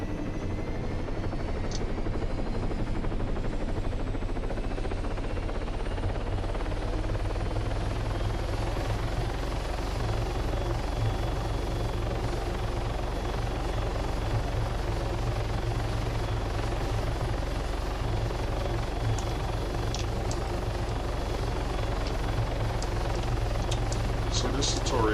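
A helicopter in the ARMA 3 video game runs its engine during takeoff, a steady, continuous rotor-and-turbine drone at moderate, turned-down volume, unchanging for the whole stretch.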